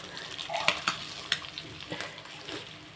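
Fish sizzling and crackling as it fries in hot oil in a pan, a steady hiss with sharp pops and occasional scraping from stirring, heard up close with no talking.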